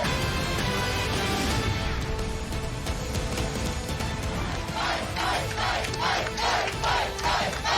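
A large crowd at a Trump rally in Georgia roars and shouts continuously, a dense wash of voices that turns into rhythmic, repeated chanting bursts in the later part.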